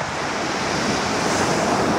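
Black Sea surf rolls onto an empty beach at Imeretinka in Adler after rain, a steady, full wash of breaking waves with wind rushing across the microphone and no voices.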